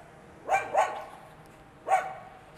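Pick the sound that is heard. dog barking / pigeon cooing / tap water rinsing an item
dog barking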